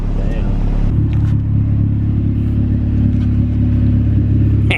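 Turbocharged Honda CR-V with a B18C1 engine and custom exhaust, a loud, close, steady low engine drone throughout, with brief voices over it.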